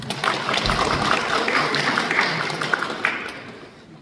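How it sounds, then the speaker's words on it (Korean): A seated audience at a Won Buddhist temple gathering claps together in a dense, sustained burst of applause that holds steady before tapering off near the end. "박수 한번 쳐주세요."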